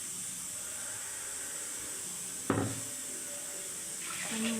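Water splashes into a pot of uncooked fish curry, a soft continuous hiss with a sudden pour partway through and a brief gurgle near the end, faint and close.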